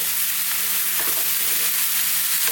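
Vegetables frying in a pan while being stirred for a five-bean vegan chili stew, a loud, continuous close-up sizzle with faint scraping, alone without talk.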